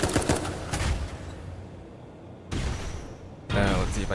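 Close-range gunfire in the mech action game Dolls Nest, loud bursts of rapid shots in short clusters separated by quieter gaps, with a final heavy volley near the end.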